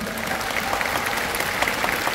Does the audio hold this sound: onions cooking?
no